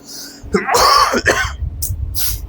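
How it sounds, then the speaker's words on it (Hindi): A man coughs and clears his throat, a few harsh raspy bursts close to the microphone followed by softer rough hacking, with no speech. "अब खांसी आ जाना, डिस्टर्बेंस हो जाता है बहुत ज्यादा।"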